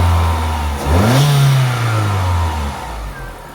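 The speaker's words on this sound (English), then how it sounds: "I'll give it a little rev here," A 1.6 16V engine in a Vauxhall Astra F GLS saloon revs once from idle, rising sharply to a sustained higher pitch and then falling back down, loud and close with no talking.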